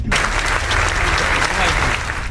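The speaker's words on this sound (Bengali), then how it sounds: "সবাই বাহিমের জন্য একটা তালি দাও" A group claps together for a guest at a gathering, a dense, steady burst of applause that fills the whole moment before stopping abruptly.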